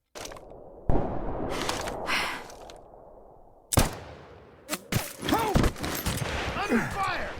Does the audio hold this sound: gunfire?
yes